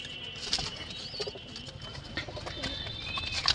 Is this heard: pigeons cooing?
yes